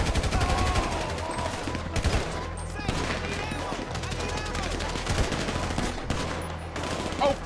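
Rapid gunfire in the Grand Theft Auto V video game, continuous bursts of shots crackling throughout, mixed with game noise and voices talking over it.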